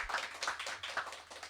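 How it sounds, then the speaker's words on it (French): A small church congregation gives a short burst of rhythmic hand clapping to welcome a newcomer, the claps faint and evenly spaced with no talking on top. "allons l'accueillir avec applaudissement"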